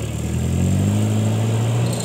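A car engine in four-wheel drive strains up a small hill, its steady close drone rising in pitch as it revs harder.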